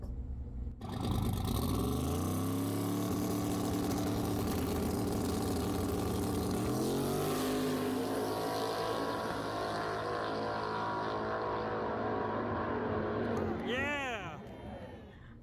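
A drag race car runs at Lubbock Dragway with a loud, steady engine roar that holds for over ten seconds, then rises into a rapid revving sweep near the end before fading.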